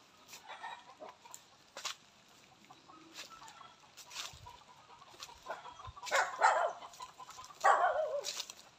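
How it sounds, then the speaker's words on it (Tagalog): Chickens cluck intermittently at a moderate distance on a rural farm, with a few louder bursts of squawking near the end and a dog barking in the mix. "Tingnan natin yung mga alaga. Ayan, may mga sa rito, may mga manok."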